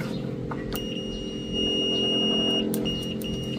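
A multimeter's continuity buzzer sounds on the circuit board of a JBL Bluetooth speaker under repair, giving a steady high beep that breaks off in short gaps, with clicks from the test probes.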